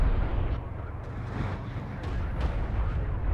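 A distant artillery barrage in the strategy game Homeworld: Deserts of Kharak, a series of muffled booming detonations rolling in low and heavy beneath a faint game soundscape.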